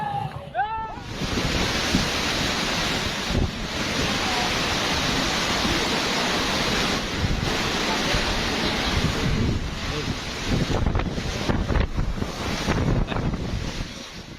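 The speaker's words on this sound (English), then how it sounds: "Typhoon Feng Wang sent enormous waves crashing into the Philippines, towering above nearby homes." Enormous typhoon waves crash ashore in the Philippines with a constant loud roar of surf and heavy wind buffeting the microphone, and swells of churning water surge throughout.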